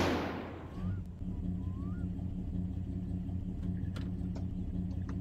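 A van engine straining while towing the Satsuma in the driving game My Summer Car: a low, steady droning hum after a brief noisy burst at the start, with faint clicks over the rumble.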